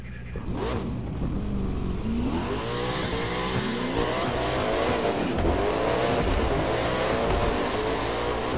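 A drag car engine revs steadily and continuously, loud and close, with rising and falling pitch sweeps.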